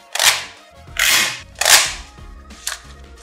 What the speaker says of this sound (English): You have this lever at the top and press down firmly.